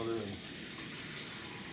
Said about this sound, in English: Little plates here, fill up with some cold water